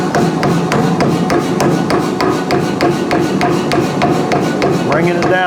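A power hammer fitted with fullering dies pounds hot carbon steel bar stock in a rapid, even rhythm of loud, close, ringing blows that continue without a break.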